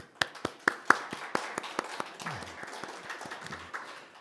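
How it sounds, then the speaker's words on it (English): A round of applause from an audience, with distinct claps that are loud and sharp at first, then settling into a denser, steadier patter. "will be concluded with a heartfelt round of applause from everyone."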